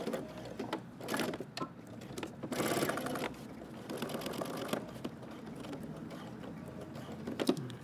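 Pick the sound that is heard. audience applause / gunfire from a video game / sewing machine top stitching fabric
sewing machine top stitching fabric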